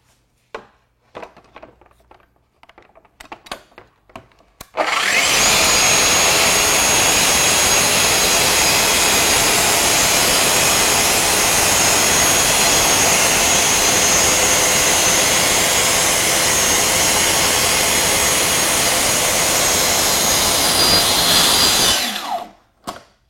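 A Festool TSC55 cordless plunge saw spins up and cuts through wood in one long, loud, steady whine lasting most of the stretch, preceded by faint handling clicks and ending abruptly.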